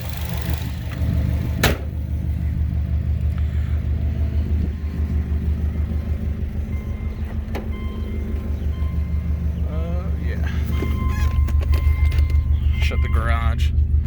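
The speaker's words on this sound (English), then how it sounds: "we're shutting the hood, and we'll go for a little drive to the shop" A 2005 Subaru Legacy GT Limited drives off toward a shop, its engine a steady low rumble heard from inside the cabin, with occasional clicks and faint chirps over the drone.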